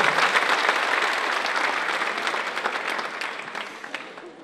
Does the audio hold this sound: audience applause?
yes